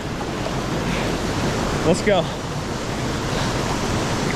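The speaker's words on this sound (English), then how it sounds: "Waterfall number 2, San Roque Falls." San Roque Falls in the Philippines roars as a steady, loud, wash of falling water that fills the whole clip, with a brief voice heard over it midway.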